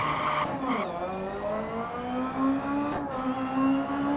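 A rally car engine in the game DiRT Rally revs hard and climbs in pitch, a steady loud mechanical whine with brief bursts of higher noise.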